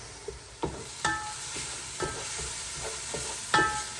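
Onions sautéing in a pan, with a steady soft sizzle and bursts of spoon stirring and scraping every second or so, close by, no talking.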